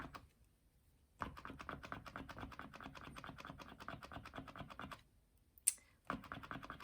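Daiso pastel scraping across thick paper in rapid, close, dry strokes, a steady scratchy rasp in two long bursts separated by short pauses.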